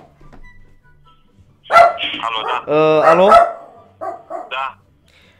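An agitated dog barks and yips repeatedly at close range in short loud bursts, mixed with a woman answering a phone call and talking over it.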